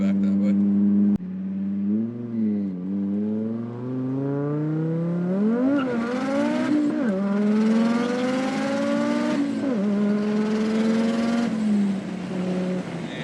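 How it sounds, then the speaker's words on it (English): Five-cylinder car engine revving up and down through several pitch sweeps while driving on a frontage road near a gas station, loud and close, a steady harmonic drone with rising and falling revs throughout. "Man, nothing sounds like a 5-cylinder."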